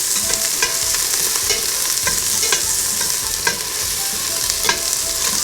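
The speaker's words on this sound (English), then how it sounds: "we're gonna saute some onion and garlic" Onion and garlic sizzle in hot oil, a loud, close, continuous hiss with occasional soft clinks and scrapes of stirring, and nobody speaking.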